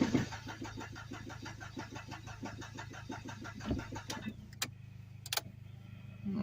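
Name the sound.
SRT4 car engine cranking, trying to start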